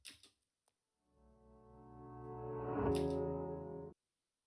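A swelling reversed sample with reverb, built in Cubase, grows gradually in loudness with a washy reverb tail, then cuts off abruptly; a few short clicks precede it.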